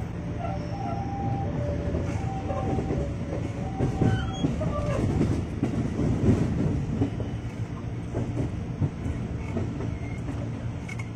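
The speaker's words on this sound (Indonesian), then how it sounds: "Barusan ada lagi tuh KRL tujuan Bogor yang berangkat dari stasiun Pasar Minggu" A KRL commuter electric train bound for Bogor departs Pasar Minggu station, its wheels rumbling and clattering over the rails with occasional squeals and a low hum, loud and continuous throughout.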